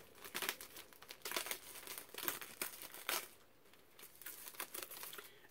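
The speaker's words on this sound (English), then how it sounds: "I am going to take the shrink off of this particular release." Shrink wrap torn and peeled off a vinyl record release: soft, close crinkling and crackling plastic in irregular bursts, fairly quiet and with no talking.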